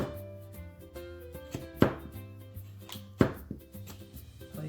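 A knife cuts food into thin slices during home baking, giving two distinct sharp cutting strokes over a soft tonal background.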